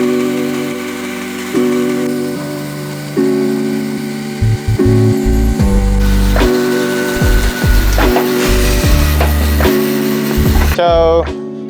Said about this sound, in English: just made our first cut with our Harvey Alpha nickel-plated bandsaw